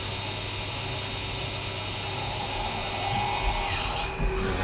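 A CNC lathe thread mill spins at high speed cutting threads in stainless steel, giving a steady, close machining whine with a tone that shifts slightly near the end.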